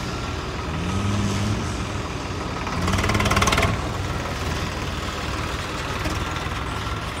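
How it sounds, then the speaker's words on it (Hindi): A tractor engine runs steadily in the open, a continuous heavy rumble with a brief rise in intensity midway, heard alone with no talk. "ट्रैक्टर की परफॉर्मेंस हम देखते हैं।"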